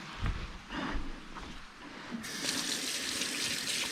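A kitchen tap runs while something is rinsed off during cooking with chicken and pineapple; a soft clatter comes first, then the water starts and keeps up a steady, close hiss to the end.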